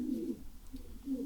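A racing pigeon returning to its loft at the end of the season gives low, soft coos, two short bursts close by with a brief pause between.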